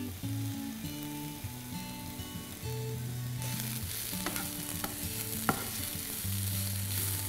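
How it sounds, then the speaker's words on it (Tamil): Carrot, capsicum, cabbage and sprouts stir-frying in a pan for veg spring rolls, a steady sizzle running throughout with scraping stirs and a few sharp clinks of a utensil against the pan. "இப்போ வந்து இந்த காய் பாதி வதங்கியாச்சு."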